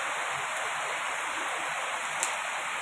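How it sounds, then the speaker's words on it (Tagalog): Heavy rain pours down in a dense, steady hiss with no letup, close and loud, with a single brief tap near the end. "Kasi dito, sobrang lakas ng ulan, oh."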